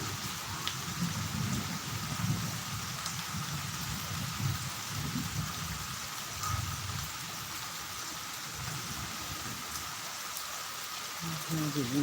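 Rain falling steadily during a live stream, a soft, even patter and hiss with faint low rumbling underneath, fairly quiet throughout.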